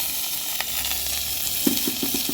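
Sliced large onion fries in a hot kadai for a cabbage and egg poriyal, producing a close sizzle with a quick series of light stirring clicks near the end.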